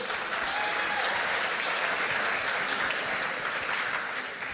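Guests at an annual gala ball for a historical museum in Joliet, Illinois applaud in a dense, continuous wash of clapping that stays steady and full throughout, with no speech over it.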